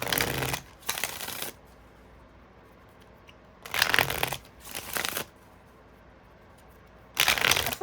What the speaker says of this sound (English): I wasn't done shuffling